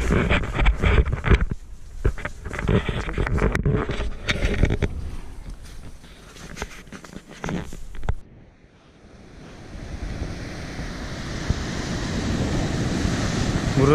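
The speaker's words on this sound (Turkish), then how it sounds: "Burası da Silifke'nin sahili." Surf rolling onto the seashore at Silifke, Turkey, near where a stream meets the sea, with wind buffeting the microphone and rough handling noise early on, then a steady, fairly loud wash of waves.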